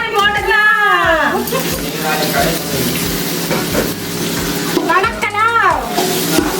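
Steady sizzling of tomatoes and ginger frying in a pan for chicken gravy fills the clip, with a voice speaking in Tamil over it throughout.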